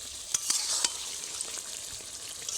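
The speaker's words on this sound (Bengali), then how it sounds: "হালকা আঁচে দুই থেকে তিন মিনিট মশলার সঙ্গে পটলটাকে ভালোভাবে কষিয়ে নেব" Pointed gourd frying with spices in a pan over low heat makes a steady bright sizzle, broken by a few sharp stirring clicks near the start.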